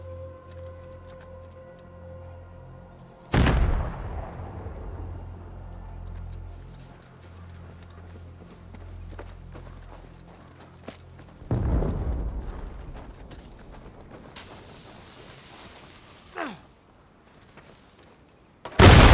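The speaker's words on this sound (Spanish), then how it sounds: "con suerte pensarán que es una de sus explosiones" Two loud, booming dynamite explosions in the video game Uncharted: Legacy of Thieves Collection, several seconds apart, each with a sharp onset and long rumbling decay over a steady droning game soundtrack, followed by a few sharp bursts.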